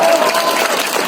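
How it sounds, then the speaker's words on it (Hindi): Crowd at a Hindi political rally claps loudly in a brief, dense burst of applause, close and continuous with no talk over it. "ठोको ठोको ताली ठोको"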